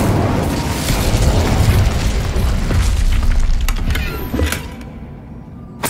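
A blazing fire-spell blast in the Hogwarts Legacy video game, a loud rumbling whoosh of flame with booming, crackling bursts that surge and then drop away into a brief near-silence.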